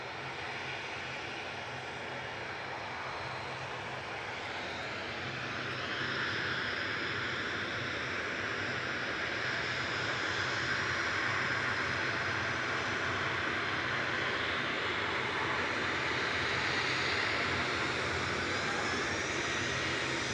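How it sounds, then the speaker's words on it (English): A Ryanair airliner departs Manchester Airport, its steady engine roar swelling gradually and staying loud and continuous throughout, with no talking. "Ryanair departing to Krakow."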